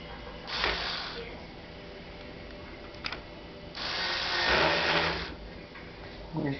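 An automated electric microtube capping tool whirs in two short bursts, the second longer and louder, with a small click between them in a quiet lab setting.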